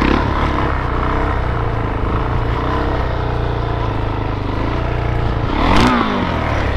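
Motorcycle engine held at steady high revs, a loud continuous drone filling the whole stretch, with a brief rise in pitch near the end and no talking.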